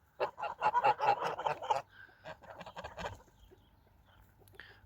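Geese in a farmyard flock honking to each other, a quick cluster of loud nasal calls followed by fainter, sparser honks, close by with no talking.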